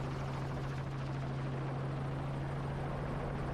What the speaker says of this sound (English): Actually, the helicopter chases the calf away.